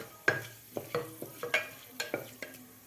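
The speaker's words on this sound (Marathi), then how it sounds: "दोन चक्री फुलचे तुकडे घेतलेले आहेत मी आणि दोन तमालपत्र तर आपल्याला हे थोडेसे फ्राय करायचे आहेत" Star anise pieces and two bay leaves fry briefly in a pan, a series of about ten distinct stirring scrapes and clinks over a low sizzle, each stroke sharp and close with no voices.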